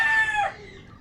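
A rooster crows loudly and close in a small backyard chicken coop, one drawn-out call that fades at the end, with no talk.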